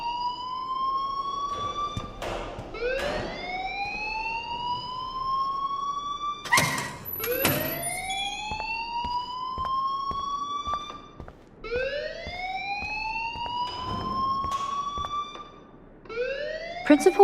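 An alarm blares in the Life Is Strange video game, a loud electronic wail repeating rising sweeps about every two to three seconds with no talking over it.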